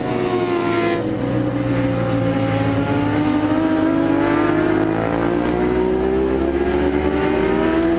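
Racing cars at the 24 Hours of Oschersleben endurance race roar continuously at close range, engines holding a loud, steady, high-pitched drone with shifting pitch as they run past, no voices heard.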